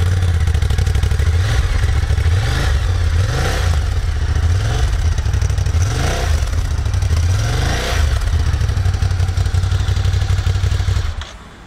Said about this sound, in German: Und so klingt der Motor.